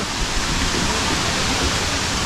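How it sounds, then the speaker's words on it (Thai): Khlong Lan waterfall, a giant waterfall in Kamphaeng Phet, Thailand, roaring as a loud, dense, unbroken rush of falling water close by. "เราเดินมาถึงแล้วนะครับ น้ำตกคลองลาน"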